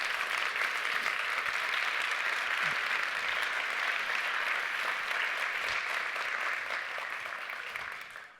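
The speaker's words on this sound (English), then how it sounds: "Let's give them all a round of applause." A large summit audience applauds the finalists at the 2024 Global Solutions Summit Recoupling Awards: a thick, continuous wash of clapping that holds steady for several seconds before tapering off at the end.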